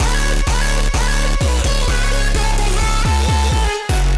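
Bright, buzzy synth chords made from two saw waves in a pulsing rhythm, loud and steady with repeated stabs and a brief drop near the end.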